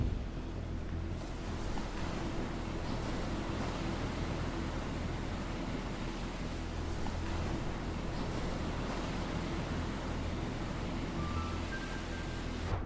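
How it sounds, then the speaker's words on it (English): Huge surf breaking at Jaws, Maui, onto a rocky shore, a steady, heavy roar of waves and wind rumbling without pause, loud and constant, with no voices. "Waves come thundering into a rocky shore, and when they break, the sound and fury is immense."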